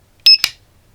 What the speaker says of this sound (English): I love the beeping